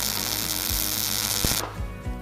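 A steady crackling, hissing buzz of a MIG welding arc runs continuously, then cuts off abruptly, leaving a few faint clicks and thumps.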